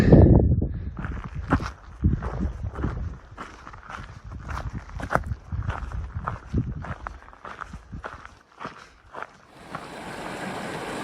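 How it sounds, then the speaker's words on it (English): Crunching footsteps tread steadily across snow on the Pacific Crest Trail near Pinchot Pass, close and rhythmic, with a few heavier steps and wind rising at the end. "Crossing a few snow traverses here."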